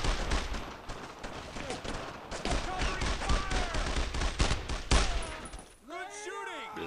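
Heavy gunfire rattles in the Brothers in Arms: Road to Hill 30 video game, dense bursts of rifle and machine-gun shots crackling nearby before fading into lighter echoing fire.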